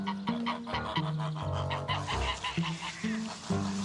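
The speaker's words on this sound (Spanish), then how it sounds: "Y llevaban los gansos al mercado. Intentar que avancen por este huerto ya cuesta lo suyo." Geese honk in a repeated, overlapping chorus while being driven through a vegetable garden toward market, the calls loud and close with short pauses between bursts.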